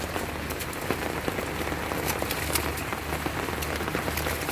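Steady rain patters on a garden and greenhouse nearby, with dense droplet taps and no voices.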